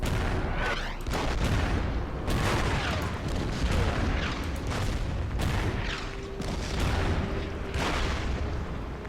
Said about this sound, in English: We wanna put some artillery fire on these Germans up here.